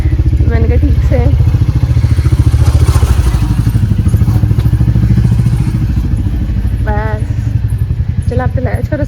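A Bullet motorcycle engine thumps steadily close by as it idles and is ridden, its low rapid pulse running the whole time while a voice briefly calls out over it at a few moments.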